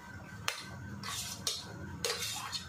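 A knife chops an onion finely on a board in a home kitchen, three sharp distinct knocks spaced about half a second apart with a quiet room between them, no voices.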